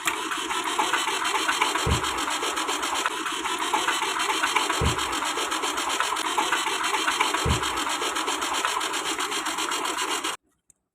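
A flood-damaged car engine cranks on its starter motor, wired directly to bypass a broken switch; a continuous, loud churning drone with three dull low thumps, then it cuts out abruptly near the end.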